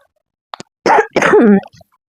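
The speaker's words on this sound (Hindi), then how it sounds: "सॉरी, खांसी आ रही है।" A few short, close throat-clearing coughs in quick succession, with brief silence between them and no talking.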